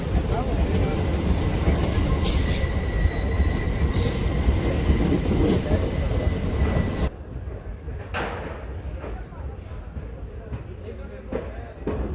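A 22421 Delhi–Jodhpur superfast express hauled by a Ghaziabad-shed WAP7 electric locomotive rumbles loudly on the rails with steady roar and squeals, then drops to a quieter running sound with scattered clicks and clatter.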